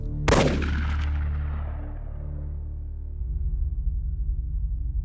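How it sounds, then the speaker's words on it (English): A single sharp shotgun blast cracks loudly near the start, then a long booming echo rolls and fades into low rumbling noise. "Then, the gunshot."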